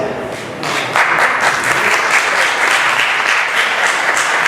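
A crowd applauding at a speaking event, a steady wash of dense clapping that jumps louder after the first second and keeps going evenly, with no speech over it.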